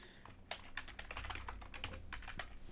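Computer keyboard typing a name: rapid, close, irregular key clicks in a continuous burst, alone with no voices.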